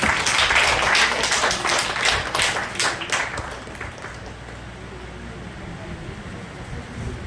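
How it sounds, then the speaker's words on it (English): Audience at a school staff appreciation award ceremony breaks into loud applause that peaks early, then thins and fades into quieter room noise after about three seconds. "Huge round of applause, please."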